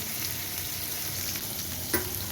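Eggplant pieces fry in a hot pan over a high flame, a dense, steady sizzle that fills the whole stretch, with one brief stir or clink near the end and no voices.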